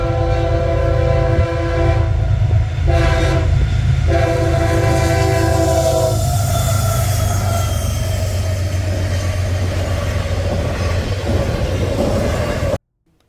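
A CSX freight train, intermodal I008 with locomotive 1852 leading 1827, passes close and loud, its horn sounding in long blasts over steady engine rumble and rolling wheel noise throughout.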